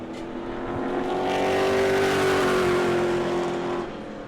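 A Pro Late Model race car runs a qualifying lap at New Smyrna. Its engine drone swells to a loud, sustained roar as it passes, then fades off.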